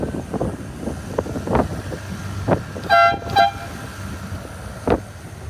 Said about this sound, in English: We've added an air horn.